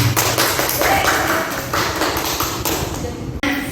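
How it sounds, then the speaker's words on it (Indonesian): Applause from a classroom audience during a microteaching lesson on human reproduction, a steady broadband patter of many hands clapping fairly close, running continuously for several seconds with no talk over it. "Beri aplaus untuk kita semua."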